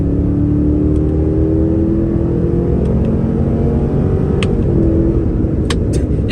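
Steady, loud engine drone from a 2022 Cadillac Escalade switched into sport mode, a continuous low rumble with a faint rising whir and no talking.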